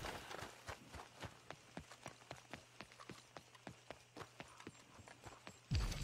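Horse hooves clip-clop at a steady walking pace in Red Dead Redemption 2, regular evenly spaced beats that are fairly quiet over a low hum, ending with a sudden low thump.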